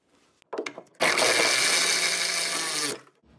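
A power tool runs bolts home to tighten a B&M Race Powerglide transmission onto a 6.6L Gen V L8T engine in a Camaro swap, a loud sustained two-second whir after a few short clicks and bumps, close by with no talk.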